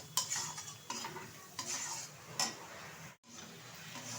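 Turmeric, salt and dry spices fry in oil for a thin desi chicken and potato curry, as a spoon stirs with repeated scraping clicks over a low, quiet sizzle, close by and free of speech.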